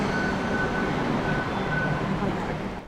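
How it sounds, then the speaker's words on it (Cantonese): A Hong Kong MTR light rail train starting up, a steady dense rumble with a faint whine, heard continuously and fairly loud before easing off slightly at the end. "頭先嘅錄音啊，係屬於第幾期嘅輕鐵列車嘅起動聲"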